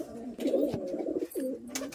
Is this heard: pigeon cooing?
yes